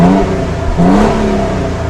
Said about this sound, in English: you can see this big muffler back here, this exhaust. This thing sounds so cool.